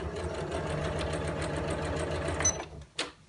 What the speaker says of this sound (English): When you're sewing these up, just be careful when you get to the handles.